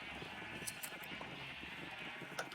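Minecraft sheep bleat over continuous background game noise, scattered with sharp clicks and faint shuffling steps across a couple of seconds, no one talking.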